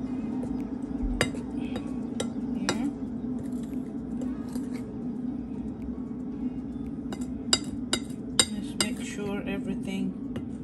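A utensil clinks and scrapes against a bowl as ingredients are mixed together, irregular light taps over a steady background hum, with a voice talking briefly.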